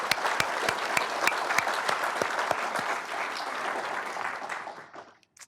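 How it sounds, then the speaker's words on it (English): A town hall audience on housing applauds the community partners, a full round of clapping that holds steady, then tapers off and stops near the end. "will you please stand up so we can give you a big round of applause"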